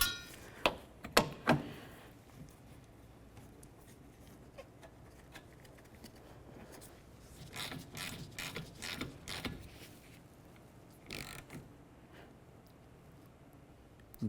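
A ratchet clicks in short bursts while tightening the wiper arm nut on a 2003-2007 Honda Accord, faint and close, with a few louder clatters and quiet pauses between the runs of clicks.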